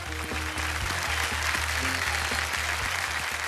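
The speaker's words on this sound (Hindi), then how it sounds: "तालियों के साथ एक बार फिर।" Steady applause from a TV game show studio audience on Kaun Banega Crorepati, a continuous dense patter of clapping over a low droning hum, with no voices standing out.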